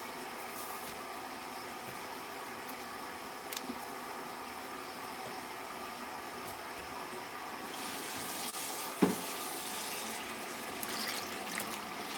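Hot tap water runs steadily into a container, a soft, even hiss that stays faint and unbroken, with a brief knock near the end.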